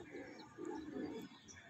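Pigeons coo softly nearby in a few low, rolling phrases, faint and brief, with a chirp or two mixed in.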